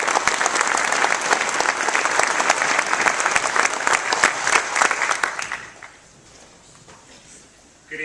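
An audience at an evening political debate applauds to welcome the moderator, a loud sustained wave of clapping from a crowded hall that fades out after about five seconds into quiet.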